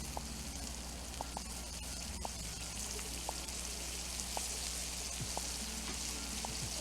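Butter sizzles steadily on a hot Blackstone flat-top griddle while breakfast sandwiches are made, a continuous close frying hiss with scattered small pops and crackles throughout.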